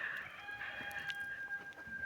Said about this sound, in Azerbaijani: Xoruzun səsini eşitdiniz.